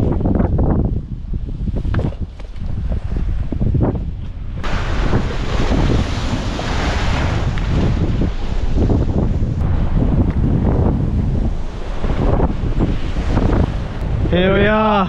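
Strong gusty coastal wind roars across the microphone continuously, with surf-like rushing underneath and no clear voices.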